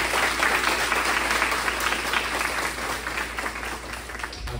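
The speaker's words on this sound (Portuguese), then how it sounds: "Você pode dar um forte aplauso ao seu colaborador." A church congregation applauding steadily during a Sunday service, dense clapping that holds throughout and eases slightly toward the end.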